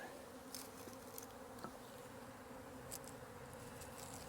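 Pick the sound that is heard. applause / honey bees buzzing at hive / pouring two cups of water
honey bees buzzing at hive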